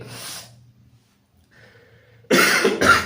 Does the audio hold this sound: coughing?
yes